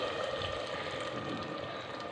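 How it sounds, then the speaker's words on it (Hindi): Water from a glass is poured into a pot of black chickpea curry, giving a steady hissing, bubbling wash heard close and fairly quiet, with no talk. "मैं 1 गिलास पानी शामिल करूँगी"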